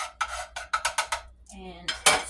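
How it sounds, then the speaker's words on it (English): A utensil clinks and scrapes rhythmically against a pan while garlic is stirred in melting butter, about six quick metallic strokes followed by a brief squeak and a louder clatter, no voices. "I have some butter melting here. And I'm just going to mix that around."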